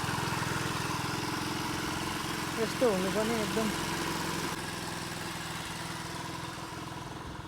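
A freshly repaired scooter engine idles steadily and evenly throughout at close range, with someone speaking briefly over the running motor.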